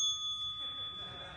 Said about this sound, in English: Where you press the bell and then you have to go...